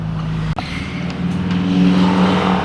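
An 800 horsepower big-turbo MK4 Toyota Supra revs hard on the street, a loud sustained engine roar that dips briefly then builds steadily in intensity, close and dominant throughout.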